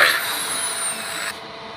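An aluminium profile is bored with a 1.5 drill bit during cabinet fabrication: a loud, steady high-pitched drilling whine runs close by for over a second, then cuts off abruptly to quieter hiss.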